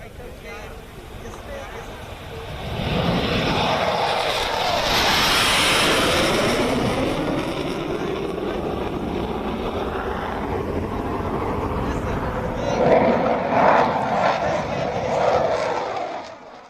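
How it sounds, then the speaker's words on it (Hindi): A Rafale fighter jet flies during an Indian Air Force display on the Ganga Expressway, a broad roaring rush that swells, holds and surges again while someone talks over it. "उड़ान भरने के साथ कुछ ही मिनट में पाकिस्तान में आतंकी ठिकाने को तबाह करने की क्षमता रखता है राफेल विमान"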